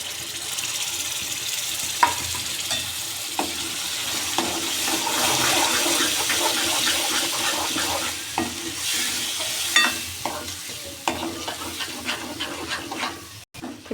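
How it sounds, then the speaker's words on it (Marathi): Ground vegetables for pav bhaji are tipped into a hot pan with red chilli and stirred, giving a steady sizzle broken by sharp scrapes and clinks of a spoon against the pan, close and fairly loud, with no talking. "आता हे भाज्या मिक्सरला बारीक केलेल्या त्यात घालून घेणार आहोत."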